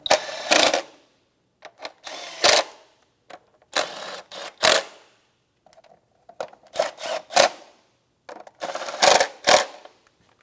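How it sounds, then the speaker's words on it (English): A ratchet snugging down the ignition coil bolts on a 2013-2017 Honda Accord, heard as short bursts of quick clicking separated by pauses, close and clear with no voices. "And then snug the bolts down."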